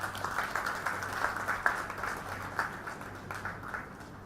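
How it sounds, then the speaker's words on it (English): Audience at a university convocation clapping and cheering, a steady distant patter of applause with a low hum in the hall, fairly faint and continuous. "Give a cheer and clap."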